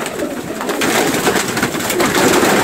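Loud, close cooing of pigeons in a loft holding crowned pigeons, with a steady chorus of soft throaty coos filling the space and no one speaking.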